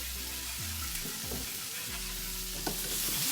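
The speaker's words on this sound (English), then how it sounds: "We're gonna turn it off and leave it sizzling in the meantime." Dark, hot oil sizzles in a pan after the heat is turned off, a steady close hiss and crackle that runs throughout with faint tonal sounds underneath.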